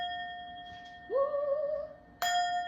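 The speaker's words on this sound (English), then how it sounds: "Big bell now." A large bell struck once during a heart-centred meditation session, giving a clear sustained ring that swells and fades over about a second, followed by a second bright strike near the end.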